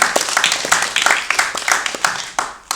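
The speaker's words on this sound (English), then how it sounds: "Let's give a good play round of applause, everybody." Audience applause after a film screening Q&A at the Asians on Film Festival, a moderate, uneven patter of hand claps from a smallish crowd, with sharper individual claps standing out throughout.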